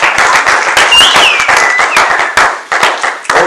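A church congregation applauding and cheering in praise of the Lord: loud, dense clapping from a crowd throughout, with a few high whistle-like cries rising above it.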